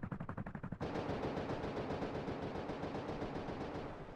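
An auto turret in the survival game Rust fires rapid automatic bursts: a stuttering volley, then a sustained dense stream of shots that carries on steadily and tapers slightly at the end.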